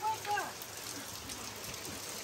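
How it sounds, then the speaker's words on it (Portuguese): Rain falls across a farm in a steady, even hiss of drops on surfaces, fairly faint, with a few brief higher sounds near the start. "Tá chovendo no sítio inteiro, inteiro."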